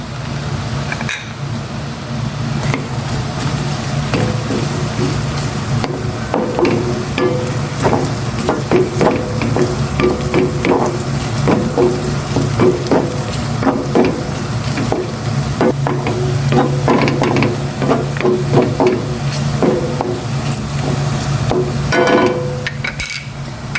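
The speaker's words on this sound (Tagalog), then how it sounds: "Ipa-brown ko lang ito. And susunod yung onion naman." Onion browning as it fries in a pan, a loud continuous close sizzle with frequent stirring scrapes and clinks from the spoon throughout, no talking.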